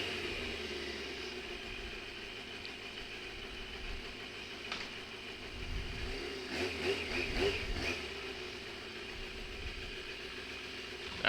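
A mini Tenere 700 project motorcycle idles steadily at low volume, a faint continuous engine hum with a brief rise in revs around the middle before settling back.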